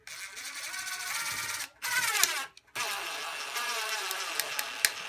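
A Dewalt DCF887 impact driver runs at speed 1 in three close bursts of high, buzzing whir, separated by brief stops, with a steady mechanical rattle and no talking.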